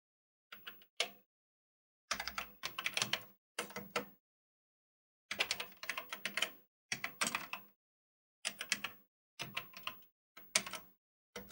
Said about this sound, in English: Now I'm going to type in the load command.